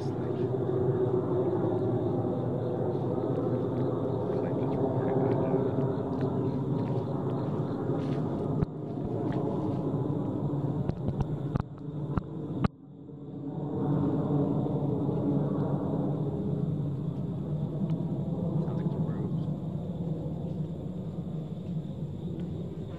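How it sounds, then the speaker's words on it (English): A steady, droning roar of an airplane passing overhead fills the scene, broad and fairly loud, briefly interrupted by a sharp break before the engine drone resumes and slowly fades. "Sounds like an airplane."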